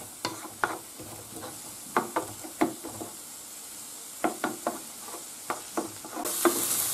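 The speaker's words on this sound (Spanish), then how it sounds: "Echamos el ajo también. Y lo dejamos sofriendo." Garlic gently frying in oil in a paella pan under a soft steady sizzle, with a spoon knocking and scraping against the pan in sharp irregular clusters, close up and without speech.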